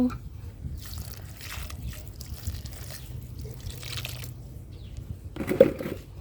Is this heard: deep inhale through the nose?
no